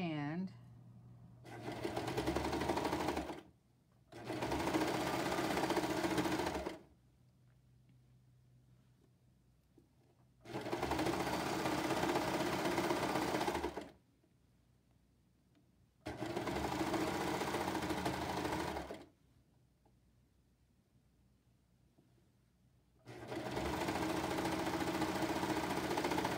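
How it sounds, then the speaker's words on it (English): Serger overlocker finishing the raw edges of a t-shirt neckband, running in four long bursts of steady, fast stitching hum separated by quieter pauses, close and fairly loud. "all we want to do is just serge finish this and try not to catch anything in there"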